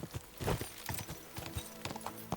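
Horse hooves clip-clop in a brisk, uneven rhythm as the horse is ridden in Kingdom Come: Deliverance II, close and fairly loud, with faint harness noise between the steps.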